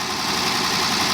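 A Mercedes 220S engine idles in a steady, even rumble, close and continuous with no voices.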